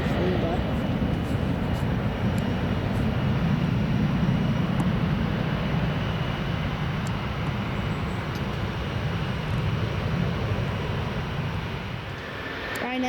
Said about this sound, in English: It's another Jet 2 that's just departed on runway 23 there.